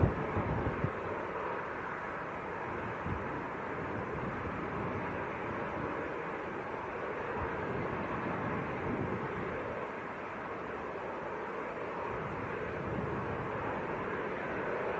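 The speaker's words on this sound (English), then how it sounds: "We've got EasyJet's A319 on the pushback" An EasyJet Airbus A319 being pushed back at Leeds Bradford Airport on a windy day, heard as a steady broad engine roar with wind rumble, constant and moderately distant throughout, without anyone speaking.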